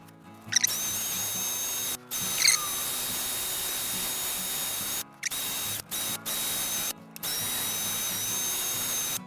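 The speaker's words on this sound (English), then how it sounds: "drill mounted sanding disc to deal with that." A power drill fitted with a sanding disc whines in several bursts, stopping and starting, with a gritty sanding rasp against a wooden lid under the motor.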